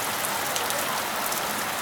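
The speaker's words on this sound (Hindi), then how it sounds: "किस तरीके से पहाड़ों पे बारिश होती है" Rain pours down in the mountains around Tungnath, a dense, steady hiss of drops striking surfaces close by, constant and fairly loud with no voices.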